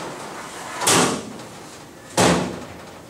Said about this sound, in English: After that, it's as simple as closing the doors,